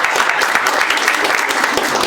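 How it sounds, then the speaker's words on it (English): Loud, close applause from an audience at a panel discussion, clapping for a mother, with dense overlapping hand claps and a few sharper individual claps standing out over the steady wash. "Let's give this mother a round of applause"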